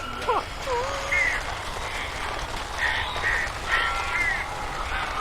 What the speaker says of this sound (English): 哪来这么多乌鸦？